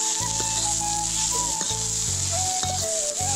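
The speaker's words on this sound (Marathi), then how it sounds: "हे बघा, कांदा मस्त असं भाजून झालाय लालपणी।" Onion frying in hot oil for a prawn masala, a steady loud sizzle with occasional stirring clatter and a faint tonal hum running underneath.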